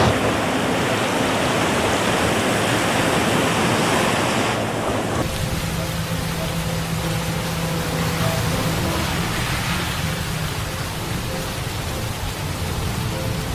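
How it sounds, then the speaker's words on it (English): Huge waves driven by Super Typhoon Yagi crash continuously onto the Vietnamese shore, a loud, dense roar of surf and wind that shifts in tone midway but never lets up. "Waves as high as 10 meters are continuously crashing onto the shore, sweeping away many boats"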